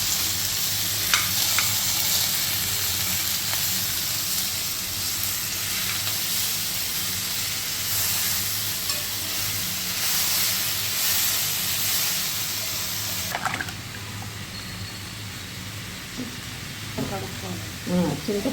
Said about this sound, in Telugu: నేను ధనియాలు, జీలకర్ర వేయిస్తున్నాను.